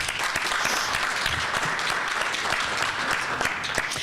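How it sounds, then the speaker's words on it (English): Dense, steady applause from a chamber of commerce forum audience during a legislative wrap-up in Bloomington, filling the room evenly for a few seconds with no voices over it. "Let's give them a round of applause."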